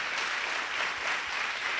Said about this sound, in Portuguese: Alguém aplauda Jesus nesse lugar? Mas aplauda forte.